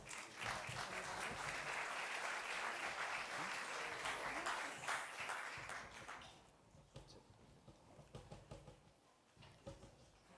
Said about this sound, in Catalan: Un aplaudiment, sisplau, per tots ells.